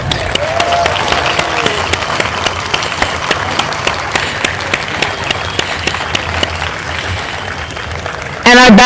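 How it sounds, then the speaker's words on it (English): Audience at the King Kamehameha III statue dedication ceremony bursts into steady applause, dense overlapping clapping that carries on for most of the stretch, with a brief louder shift near the end. "Ladies and gentlemen, please give a round of applause."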